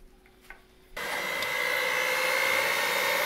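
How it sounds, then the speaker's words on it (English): An electric hand mixer starts up with a click and then whirs at a steady, loud hum, up close, as it beats cake batter in a bowl. "I'm going to use the electric mixer just to speed things along."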